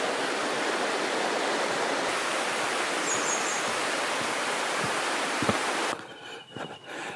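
A river flows under a bridge on the Ozegahara wetland trail, a loud, steady rushing of water that holds for about six seconds before cutting to quieter outdoor ambience.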